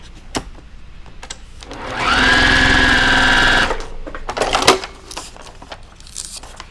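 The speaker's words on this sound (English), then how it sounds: "We're going to stitch right here on this line." A sewing machine stitches along a line on a foundation paper log cabin quilt block in one steady, loud run of about a second and a half, with faint handling clicks before and after.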